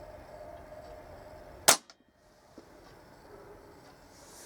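A single sharp crack from a Kral NP02 air rifle fired at a target, close and loud against a quiet background, followed by a faint thud moments later.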